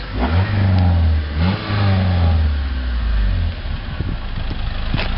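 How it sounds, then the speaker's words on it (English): A 1990 Honda Civic Si with its factory exhaust revs up several times, the engine climbing and dropping in close, loud bursts with a fairly mild exhaust note. "Give it a couple revs."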